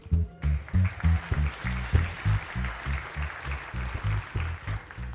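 Applause from a comedy club audience during a stand-up set, a loud, sustained crowd clapping in uneven bursts that swell and dip, with no voices over it.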